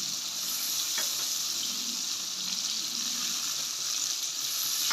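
Curry masala frying in a pan for a Pakistani dish, giving a steady, close hiss of sizzling that runs unbroken throughout, with a few faint stirring clicks and no voices.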